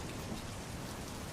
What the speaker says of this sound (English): It is raining out, and the ground is very slippery.